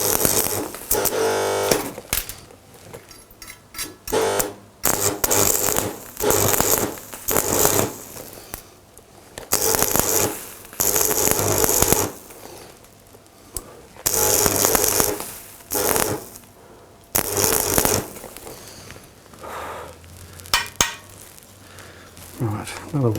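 Stick welding with a rod on a recumbent seat frame gives bursts of crackling, sizzling arc noise in repeated passes separated by short pauses, close and loud.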